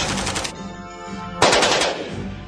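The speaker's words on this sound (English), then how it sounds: "With its single or automatic firing capabilities, it performed the roles of both a rifle and submachine gun in one robust package." An AK-47 rifle fires two bursts of automatic gunfire, each a loud, rapid string of sharp cracks close by, separated by about a second of fading echo and no voices.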